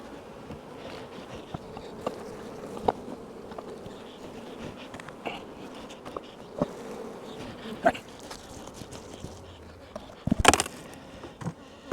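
Agitated honey bees buzz at a hive during a double screen split, a dense droning swarm close by with scattered sharper buzzes and a few clunks from handling the boxes.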